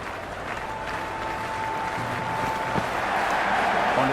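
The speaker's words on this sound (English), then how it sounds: "already the crowd making a hell of a racket" A stadium crowd in the cricket video game Cricket 26 roars with sustained applause and cheering at a steady, loud level that swells slightly toward the end, with no one talking in the clip.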